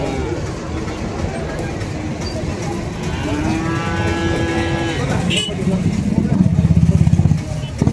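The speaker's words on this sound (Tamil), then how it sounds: "ஸோ ஒரு பாய்ச்சல் காளை ஒன்று எடுத்துகிட்டு வந்திருக்காங்க பாருங்கள்" A bull moos with a drawn-out, low call amid the busy, noisy Vaniyambadi cattle market in Tirupattur district, with voices and engine noise around it.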